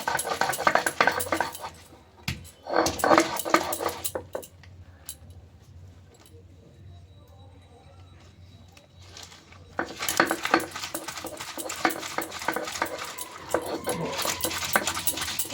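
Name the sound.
grinding leaves on a stone grinder (shil nora)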